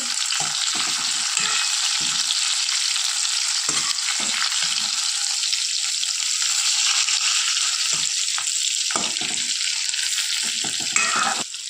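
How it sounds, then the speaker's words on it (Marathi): Green tomatoes sauté in a pan with a loud, continuous close sizzle and occasional soft turning and scraping sounds underneath. "आता टमाटो एका साईडने झालेले आहे आता आपण हे छान असे परतून घ्यायचे आहे"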